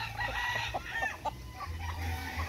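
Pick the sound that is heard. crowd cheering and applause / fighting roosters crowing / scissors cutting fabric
fighting roosters crowing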